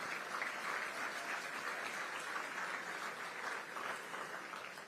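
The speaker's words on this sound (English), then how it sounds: "I want you to clap yourself." Students in the audience at a Jamaican creative career expo clap together in a steady, even patter that sounds fairly distant and subdued and lasts throughout.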